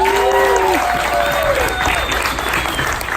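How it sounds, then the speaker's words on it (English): Festival audience applause: a dense, continuous wash of many hands clapping, loud and steady for the whole three seconds. A voice speaks over the start. "give them a round of applause"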